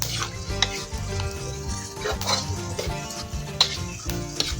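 Chili and garlic frying in hot oil while being stirred, a steady close sizzle with scraping and stirring clinks throughout.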